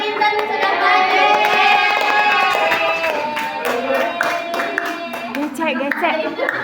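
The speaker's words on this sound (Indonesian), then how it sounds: "Beri tepuk tangan dulu, ada Intan sudah maju." Students in an elementary classroom give a short round of hand clapping for a classmate's group, moderately loud and mixed with children's voices and chatter.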